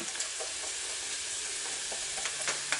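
Batter for a Dutch baby whisked until smooth, a continuous close swishing and tapping against the bowl, even and alone with no voices.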